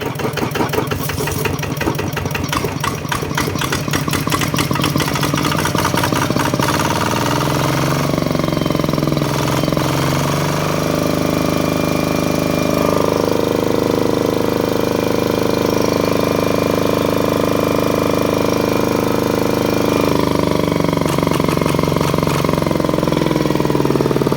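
A small RT140 diesel engine chugs loudly and continuously up close, its rapid pulsing knock smoothing into a steadier, rougher drone as it revs.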